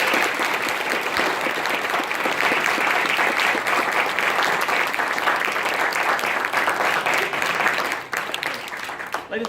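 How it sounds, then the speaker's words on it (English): An audience claps loudly and steadily after a Christmas play, a dense continuous applause that fades slightly near the end. "I want to give a big round of applause to our production team, to our actors, and everybody who was involved."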